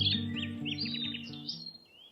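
Small birds on a grassy patch chirp and twitter in quick, bright bursts, with a soft low musical tone sustained underneath throughout.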